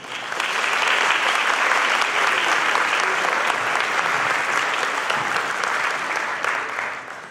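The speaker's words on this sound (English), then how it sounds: "Let's give our wonderful A-Band another round of applause." Sustained, full applause from a concert audience cheering a band at a school holiday show, a thick wash of many hands clapping at steady loudness for several seconds before easing slightly at the end.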